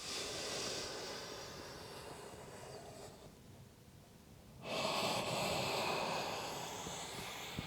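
Slow, deep yoga breaths, a long airy exhale, a quiet pause, then a rushing inhale, close and soft.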